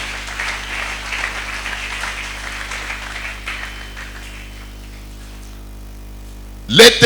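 A church congregation applauds in a steady wash of clapping that gradually fades, ending with a sharp, loud knock-like burst.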